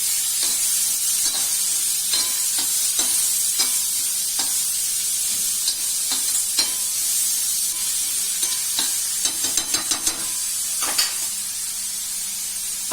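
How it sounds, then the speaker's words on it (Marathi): Sliced onions and green chillies sizzle steadily in oil on a hot tawa, with repeated sharp clicks and scrapes of a steel spoon stirring against the pan throughout. "तव्याक आवाज येतलोच कारण स्टीलचा चमचो ना."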